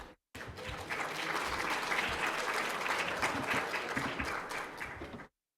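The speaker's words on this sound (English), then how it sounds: "So I want to invite the both of them with an applause here on stage." Steady audience applause at a gala, dense clapping from a large crowd lasting about five seconds before stopping abruptly.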